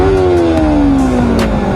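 A Honda CBR 250RR sport motorcycle engine revs close by, a loud, steady high-pitched whine that rises and then gradually falls in pitch over under two seconds.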